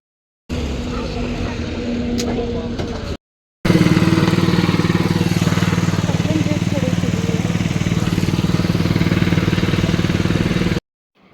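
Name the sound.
motorcycle riding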